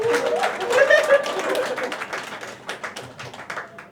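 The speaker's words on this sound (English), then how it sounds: "Round of applause for Malika" Audience clapping after a reading at a cinema café, loose and uneven claps that thin out over time, with voices and a laugh rising through the early part.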